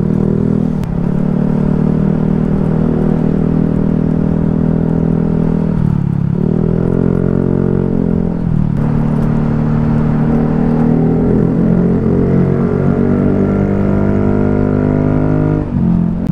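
A loud vehicle exhaust fitted with an aftermarket muffler roars up close, holding a steady, heavy drone that dips briefly twice as the revs fall and then climbs back, with no talking over it.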